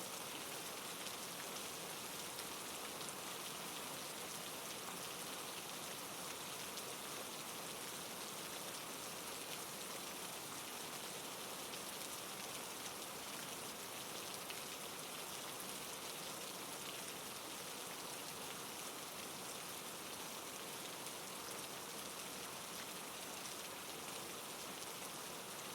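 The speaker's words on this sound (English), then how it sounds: "Soft rain continues to fall over the empty streets of the quiet town." Gentle rain falling over empty town streets at night, a steady, even hiss of drops on wet surfaces that continues without change.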